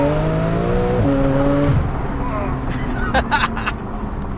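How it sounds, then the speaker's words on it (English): A Techart-tuned car with an 8-speed gearbox downshifting, engine tones stepping abruptly in pitch with quick blips, then a rougher rumble and crackles, close and loud with a voice over it. "But the downshifts are way quicker."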